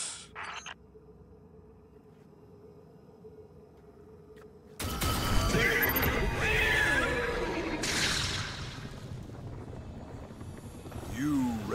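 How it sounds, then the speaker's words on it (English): A horse neighs and whinnies in the video game Destiny 2, Dares of Eternity mode, coming in as a loud drawn-out call among clanking mechanisms and game effects after a quiet stretch. "The horse insists you guess."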